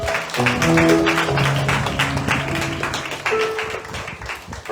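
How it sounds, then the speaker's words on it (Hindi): A congregation claps in steady rhythm to praise God during a Hindi Christian worship service, the loud, even hand claps running over sustained music throughout. "ताली बजाकर प्रभु का धन्यवाद"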